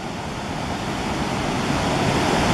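The Menominee River rushes loudly on a misty fall day, a dense, steady broadband roar of moving water that builds slightly and carries no other sounds.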